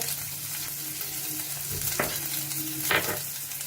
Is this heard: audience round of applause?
no